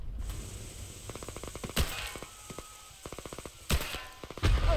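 Video game gunfire in Hell Let Loose crackles in several rapid bursts of automatic fire, with a few sharper single shots between them, fairly faint and at a distance.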